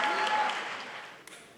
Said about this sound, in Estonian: Aplaus loomulikult.